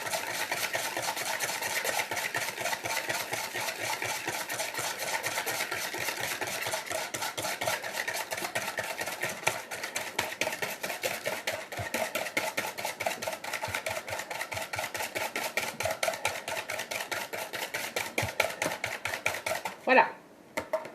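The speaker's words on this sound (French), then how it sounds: "Je vais mélanger un petit peu le jaune avec le sucre" Egg yolk and sugar are whisked briskly in a bowl, a fast, steady metallic scraping rhythm close up that continues for about twenty seconds before a short clatter at the end.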